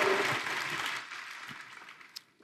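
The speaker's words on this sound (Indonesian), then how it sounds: "Boleh tepuk tangannya di-extend buat para worship leaders," Congregation applause at a church worship service, fading from moderate to faint over a couple of seconds, with scattered claps trailing off at the end.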